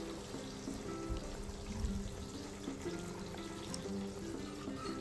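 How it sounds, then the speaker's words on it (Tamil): Half a pot of water is poured into sizzling masala in a pan for vadacurry, producing a steady, soft, continuous splashing stream that lasts a few seconds. "இப்போ நான் 1/2 சொம்பு தண்ணி எடுத்து நான் அதில் ஆட் பண்ணிக்கிறேன்"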